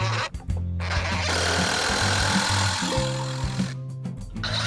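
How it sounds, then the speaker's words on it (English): Power drill boring into leftover scrap wood while a heavy-duty workbench's front cross brace is built, a steady whirring drone running almost without a break, close and fairly loud, with short pauses near the start and end. "Now we'll go ahead and start pre-drilling and attaching that front section, or the front cross brace."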